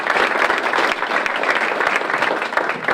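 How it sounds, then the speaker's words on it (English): A room applauds city council and mayoral primary candidates after a debate, dense sustained clapping from a sizable audience filling the space evenly and fairly loud throughout. "let's give another round of applause to our candidates"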